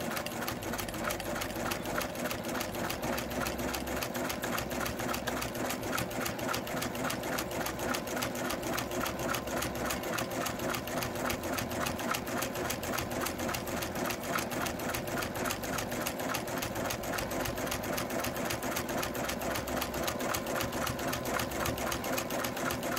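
A sewing machine stitches a spiral quilting pattern across a quilt, running in one steady, continuous rapid whir that holds at an even loud level for the whole stretch with no talking.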